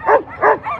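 A sled dog at the start of a sled dog race on Anchorage's 4th Avenue gives three close, loud, yelping barks in a quick rhythm, with faint voices in the background.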